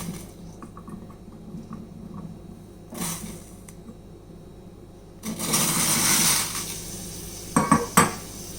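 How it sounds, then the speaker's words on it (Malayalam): Grapes tumble into a pot of boiling water, giving soft metallic clatter and splashy rustling that swell into a louder bubbling, pouring stretch before a few sharp clanks of the pot near the end. "ഗ്രേപ്സ് ഇതിലേക്ക് ഇട്ട് കൊടുക്കാം."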